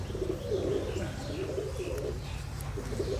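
A pigeon coos in soft, low, rolling repeated calls, close and steady, with faint chirps in the background.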